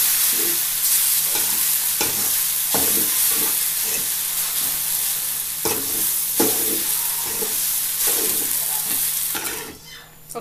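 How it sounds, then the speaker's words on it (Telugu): Parched rice uggani being stirred in a hot pan with tempering, rhythmic scraping strokes of the spoon repeating over a continuous close sizzle that fades out at the end. "బాగా కలుపుకోవాలి"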